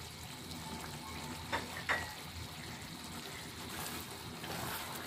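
Chopped pieces of satkara, a Bangladeshi citrus with the pith removed, drop into a pan of beef curry, setting off a steady close sizzle with two brief sharper crackles early on.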